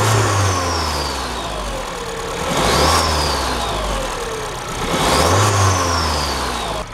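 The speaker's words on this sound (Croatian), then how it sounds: "motor je upaljen i čujete koliko tiho radi" A 2012 SEAT Leon's 1.2-litre TSI turbo petrol engine, 77 kW, runs close up with the bonnet open, a smooth, quiet idle broken by two brief revs that rise and fall.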